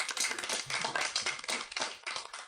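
A seated audience at a group session applauds together, a dense, steady patter of many hands clapping at moderate volume with no voices over it.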